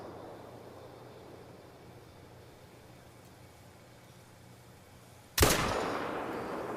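A single loud AR15 rifle shot cracks near the end in theHunter: Call of the Wild, fired unscoped at 50 meters. It follows several seconds of quiet outdoor ambience and leaves a long, rumbling echo.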